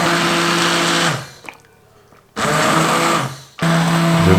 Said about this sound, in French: Et là, tu vas mixer.